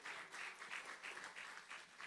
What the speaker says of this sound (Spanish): Un aplauso nuevamente para ellos.